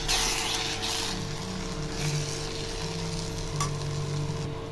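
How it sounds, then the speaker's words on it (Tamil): Ground spice powder being stirred into gongura (sorrel leaf) pachadi in a pan: a continuous hissing sizzle with soft scraping strokes, fairly loud and without talk. "போடுறது நல்லா மிக்ஸ் பண்ணிடலாம்."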